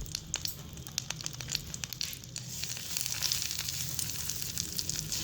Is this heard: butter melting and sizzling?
yes